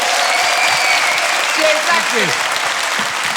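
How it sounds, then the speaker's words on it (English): A live audience at a comedy show applauds warmly and continuously, a dense wash of clapping close by, with a voice speaking over it. "Ladies and gentlemen, give a massive round of applause"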